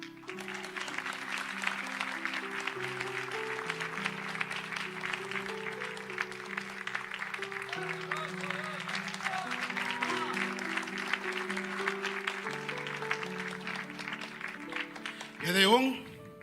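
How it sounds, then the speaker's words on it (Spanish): A church congregation applauds during an evangelist's sermon. The steady crowd clapping runs for the whole stretch over sustained keyboard music, with a louder swell near the end. "Gedeón pudo haber dicho, Gedeón, denle aplauso a Cristo."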